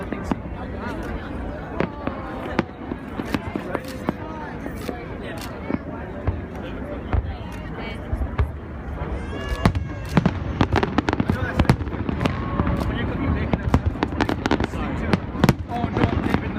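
Bursts from the 2015 Macy's Fourth of July fireworks show pop and crackle for a long stretch, growing denser and louder toward the end, under steady crowd chatter and exclamations.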